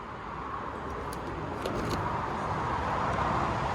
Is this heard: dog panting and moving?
no